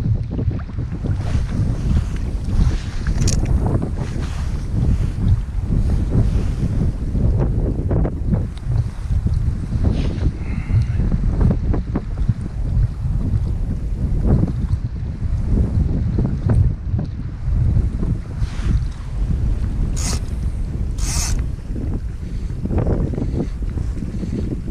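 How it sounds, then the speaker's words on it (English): Strong wind blows over the River Thurso in spring, a constant loud rushing and buffeting against the microphone with no letup. "The wind's not died down any yet."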